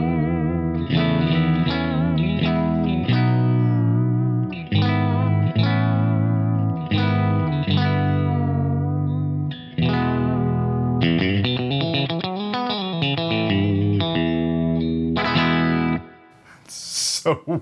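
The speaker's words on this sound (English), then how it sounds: "Now we're gonna mix the middle pickup in with the bridge in phase." Clean-ish electric guitar on a modified 1965 Fender Mustang, middle and bridge pickups combined in phase, with a quacky, thin tone plays a continuous stream of chords and picked notes, close and fairly loud, ending in brief noise.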